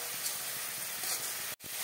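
Onion paste frying in a pan while a chicken curry is cooked, a steady close sizzle with a brief break near the end before it picks up again.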